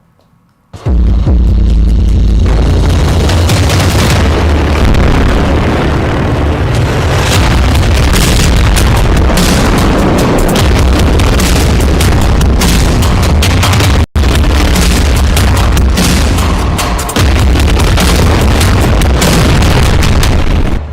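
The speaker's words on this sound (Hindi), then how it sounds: "अब रफा में 2-2 हजार किलो के बम गिराए जा रहे हैं" Heavy bombs exploding in Rafah, Gaza, a very loud sustained roar of blasts and rumbling that begins abruptly after a second of quiet and fills the whole span, with a brief cut midway.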